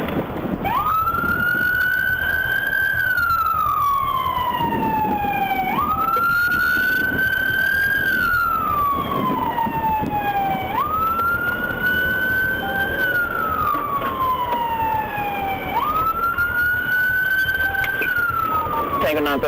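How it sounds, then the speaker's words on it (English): Police car siren wailing in a loud, repeating rise-and-fall cycle during a high-speed pursuit, with engine and road noise underneath and a voice talking over it. "Upon activating his lights and siren"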